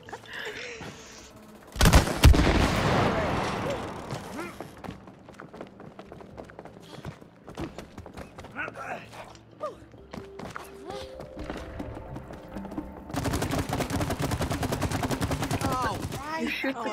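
Gunfire from the co-op game It Takes Two crackles in bursts, a loud sharp volley near the start, scattered shots and thuds through the middle, then a dense rapid stretch of firing toward the end.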